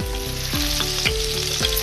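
Stuffed brinjal filled with potato sizzles steadily in a pan, a continuous close frying hiss with a few soft scraping strokes and no talking.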